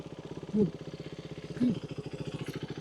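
A motorcycle engine runs with the clutch pulled in, a steady mid-pitched throb that rises briefly twice in short blips of revving before settling back to a rough idle.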